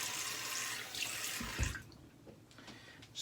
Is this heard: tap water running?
yes